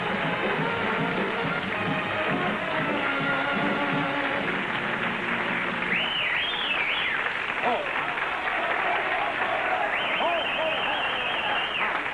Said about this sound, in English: you should not applaud that much on the opening